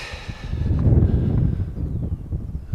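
Wind blows along a coastal path near Tintagel, buffeting the microphone in loud low rumbling gusts that swell and ease over a few seconds.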